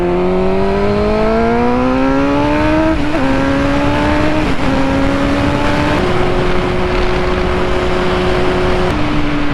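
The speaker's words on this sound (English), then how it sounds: "Let's try some of this clutchless shifting" A motorcycle accelerates hard through clutchless upshifts, its engine note climbing steadily and dropping at each quick gear change, heard loud and close over steady wind rush.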